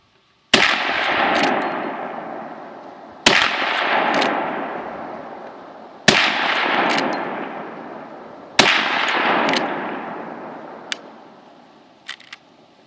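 Four loud, booming rifle shots from a Marlin 45-70 lever-action, evenly spaced a few seconds apart outdoors, each followed by a long rolling echo that fades before the next, with a few faint metallic clicks from the lever near the end.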